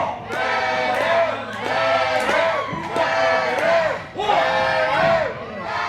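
Wrestling crowd at a CWF TV match chanting and cheering in loud rhythmic bursts, rising and falling in waves several times, close and full with shouted whoops among the voices.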